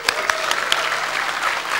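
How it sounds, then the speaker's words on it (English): An audience at a university youth leadership forum claps loudly, a thick burst of applause with a few sharp individual claps standing out near the start, sustained at a close, strong level. "I want you all to give them the loudest applause"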